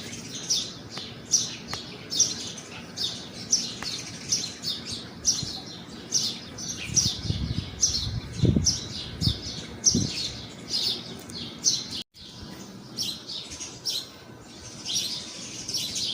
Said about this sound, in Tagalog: Pakinggan nyo yung mga huni ng ibon.